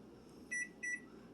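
Two short electronic timer beeps from an oven timer set for 18 minutes while Bisquick biscuits bake, each a clear tone lasting a fraction of a second, spaced about a quarter second apart over a quiet kitchen background.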